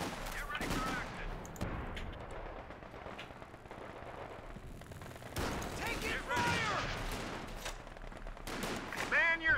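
Gunfire from the video game Company of Heroes 2, with bursts of rifle and machine-gun shots crackling through a busy battle soundscape, interrupted by sharp loud bangs and shouted voices.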